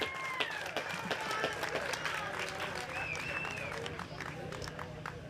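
Crowd applause for a big fish at a youth bass tournament, a steady patter of many hands clapping outdoors, with voices and whoops mixed in over the clapping.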